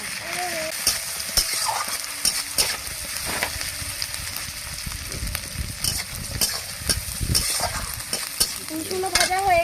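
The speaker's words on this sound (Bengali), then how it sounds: "রসুনও ভাজা হয়ে গেছে," Garlic fries with chopped onion and cumin in a hot pan: a dense, continuous sizzle broken by repeated spatula scrapes and taps against the pan, loud and close, with no talking.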